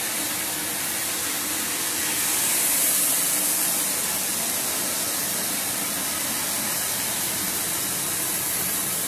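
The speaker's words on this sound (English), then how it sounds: "The winnower is still working." A cocoa bean winnower running in bean-to-bar chocolate production gives a steady, loud broadband rushing hiss like blown air, unbroken for about nine seconds with no voices.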